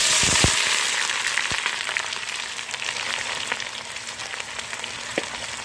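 Red onions frying in a Dutch oven for a country pork breakfast give a steady, close sizzle that runs throughout, with a few sharp clicks and knocks of utensils against the pot.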